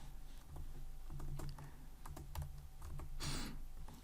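Quiet, close typing on a computer keyboard, a loose run of soft key clicks with short pauses over a faint room hum.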